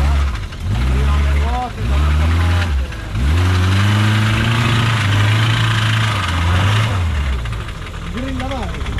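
A 4x4 off-road trial vehicle's engine idles close by with a deep, rough rumble, rising in a few short revs and swells before settling back to idle.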